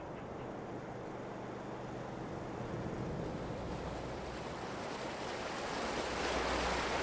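A giant waterfall in the Farming Simulator 22 video game gives a steady, dense rushing roar that builds slightly louder toward the end, with no voices.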